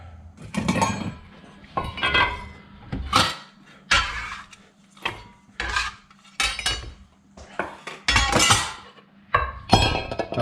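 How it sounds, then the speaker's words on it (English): A bowl is grabbed and set down among kitchen dishes, giving a series of sharp ceramic clinks and knocks in irregular bursts separated by short quiet gaps, close by, with no speech. "Grabbing a bowl."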